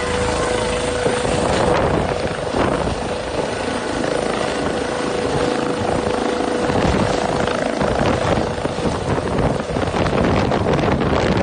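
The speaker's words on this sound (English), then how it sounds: "This rescue helicopter taking off from a narrow ski slope," A rescue helicopter roars close by, taking off from a narrow ski slope and throwing up snow, its rotor thumping steadily under heavy wind noise throughout.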